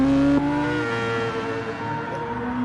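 Race car engine in a sim racing game during a six-hour charity event, a close, loud, sustained high-revving drone with a brief gear-change dip near the start and a slight pitch shift later.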